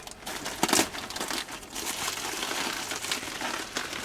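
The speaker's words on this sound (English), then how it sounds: "I think the easiest way is to cut the side of the bag." Plastic bag being cut open along its side, giving a steady crinkling and rustling of plastic with a sharper crackle near the start, close and fairly loud, with no talking.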